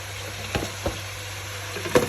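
Whole garam masala spices, including black cardamom and cloves, hit hot oil with a soft, steady sizzle, punctuated by a few brief clicks of stirring nearby.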